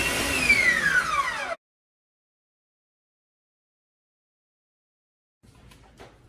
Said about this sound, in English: Basically what we have is a 1-speed mixer. It's on and it's on fast.